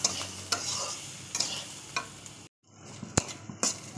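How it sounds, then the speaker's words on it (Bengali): Green chillies and onion fry in a pan at medium heat, with salt and turmeric added, a sizzling hiss broken by sharp scraping stirs, a brief pause, then renewed frying and clatter, close up with no voices. "কাঁচামরিচ আর পেঁয়াজ ভাজি।"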